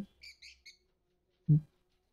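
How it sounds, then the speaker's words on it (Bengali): Small pet birds in a shop give three quick high chirps in a row, then a short louder lower squawk after a pause, close by with no talk. "তো বন্ধুরা দেখুন পাখিগুলো খুবই দারুণ পাখি"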